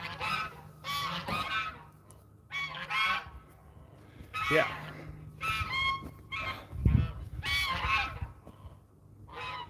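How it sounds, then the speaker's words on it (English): Geese on a mountain farm honk loudly and repeatedly in overlapping bursts close by, with a brief spoken word among the calls. "which means that the geese are coming and it's going to be loud."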